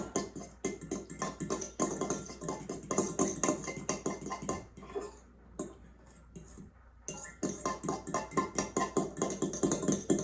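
A fork mixing lime juice into a dip in a bowl, rapid repeated clinks and scrapes against the dish in a steady stirring rhythm, close and clear, pausing briefly midway before resuming.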